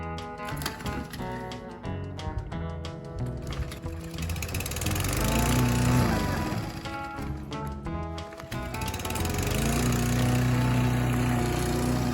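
A lawn mower engine drones steadily throughout, loud and continuous, rising slightly toward the end with harmonic whine.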